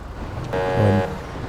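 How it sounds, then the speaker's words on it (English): A car horn sounds once in GTA 5 during a police traffic stop, a single loud, steady honk lasting about half a second over low background rumble. "honk my horn here."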